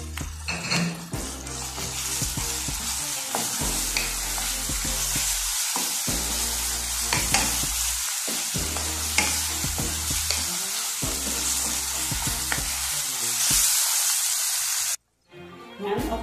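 Ground chicken stir-frying in a pan for lumpiang sariwa filling, a steady loud sizzle with repeated scraping and stirring strokes of a utensil against the pan, continuing without a break until a brief pause near the end.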